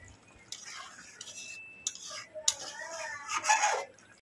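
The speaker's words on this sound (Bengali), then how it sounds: "একটু ভালো করে নেড়ে চেড়ে নেবো, নাহলে তলায় বসে যাবে" Ridge gourd poppy seed curry with cashew being stirred in a pan, a few clinks and scrapes of a spoon against metal over soft sizzling, close and fairly quiet.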